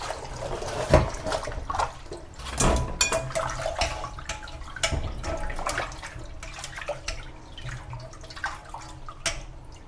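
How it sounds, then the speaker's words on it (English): Fresh watercress is swished and rinsed in water to wash out sand, with steady splashing, sloshing and dripping close by, alone and fairly loud. "we must clean the watercress thoroughly because"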